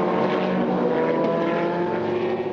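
Race car at the 4 Hours of Le Castellet endurance race, running flat out along the Mistral Straight while overtaking an Aston Martin; a loud, steady engine roar fills the whole stretch without fading.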